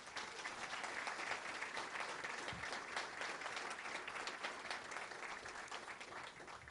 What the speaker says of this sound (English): Let's give them a round of applause and welcome them